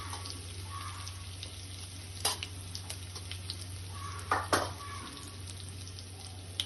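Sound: chili garlic paste and turmeric frying in pan

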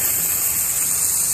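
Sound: water sprinkling over cricket ground like rain

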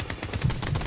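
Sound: gunfire in video game Blood Strike

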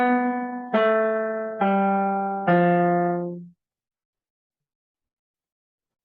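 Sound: piano notes played not staccato

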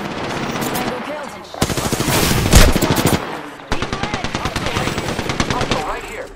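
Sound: gunfire in the video game Apex Legends

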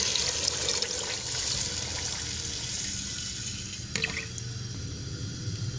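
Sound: water poured into pot for dal rice khichdi

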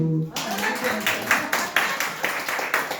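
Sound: congregation applauding the pastor's wife

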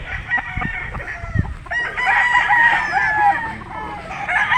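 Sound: Gilmore gamefowl rooster crowing

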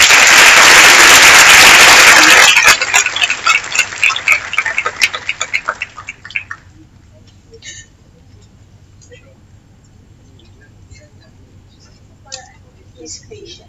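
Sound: audience applause for the panel

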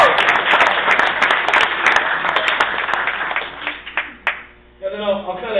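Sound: wedding guests applauding the best man's speech

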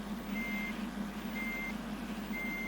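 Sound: bus reversing beeps in Bus Simulator Ultimate video game

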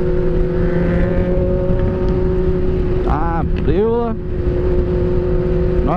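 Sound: road traffic with trucks and cars

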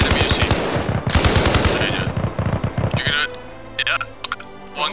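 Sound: gunfire in the video game Arma Reforger

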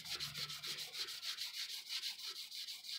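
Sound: sanding automotive clear coat

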